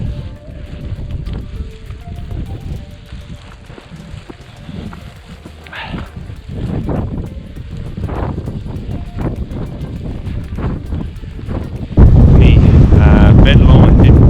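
Gusty wind buffets the microphone on a Scottish mountain hike near Ben Lomond, a loud, rough, continuous rumble that swells and suddenly becomes heavier near the end, with occasional voice under it.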